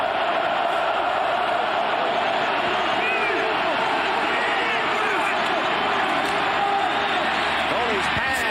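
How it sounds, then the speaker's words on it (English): A big stadium crowd at a 1992 Notre Dame versus Boston College college football game roars in a steady, dense wash, with a commentator talking over it. "The crowd is into it."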